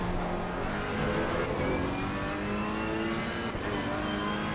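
A Ferrari race car in Assetto Corsa Competizione screams along at high revs, a dense continuous engine whine at Snetterton with rising gear sweeps, loud and unbroken, no voices.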